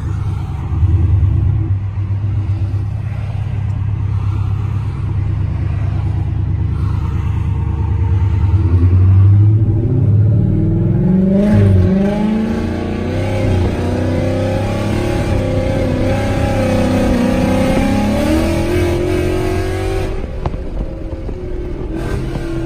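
A 2018 Ford Mustang GT on a road test accelerates hard from inside the cabin, its loud engine note rising through gears in sweeping climbs over about twenty seconds before easing off.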